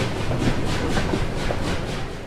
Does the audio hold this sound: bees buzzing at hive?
no